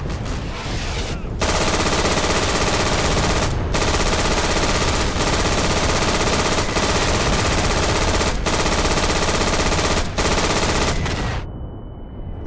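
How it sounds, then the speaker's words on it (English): An MG42 machine gun firing in the video game Day of Infamy: long, loud, continuous bursts of rapid automatic fire broken by brief pauses, then a sudden cutoff leaving faint residual noise. "The MG42 is my favorite gun in this game"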